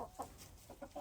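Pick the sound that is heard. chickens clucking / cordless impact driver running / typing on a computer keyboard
chickens clucking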